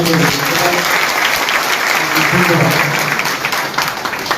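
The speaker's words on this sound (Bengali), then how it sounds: "সকলকে বলবো নিজেদের জন্য একটা করে করতালি সবাই" A crowd claps steadily at a Trinamool Youth Congress workers' meeting held on a girls' school ground, the applause loud and close throughout, fading slightly near the end, with some voices mixed in.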